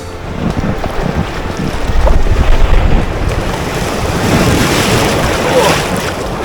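Strong wind buffets the microphone over open water, with lapping waves and an inflatable kayak moving along, loud and continuous.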